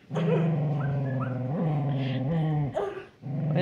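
A dog growls and whimpers close up in drawn-out, whiny vocal tones, ending in a couple of sharp barks.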